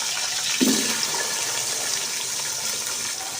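Peeled potato pieces drop into a cooking vegetable pulao with one soft splash, followed by a continuous watery hiss and bubbling that fills the rest of the clip.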